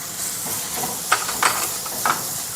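Green chili paste and grated ginger sauté in a pan with a steady, close hiss. Soft stirring scrapes and a few brief clinks sound at intervals.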